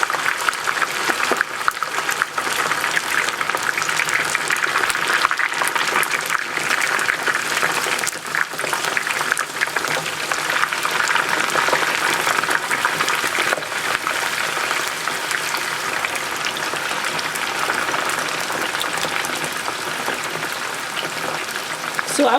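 Yams deep-frying in a batch of hot oil: a steady, dense hiss and crackle of bubbling oil, continuous and fairly close, with no break over the whole stretch.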